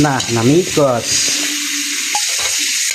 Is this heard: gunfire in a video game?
no